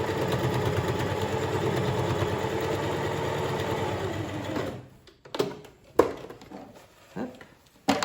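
Sewing machine stitching the sides of a fabric face mask, running in a steady close whir for about four and a half seconds, then stopping, followed by a few soft handling clicks and rustles.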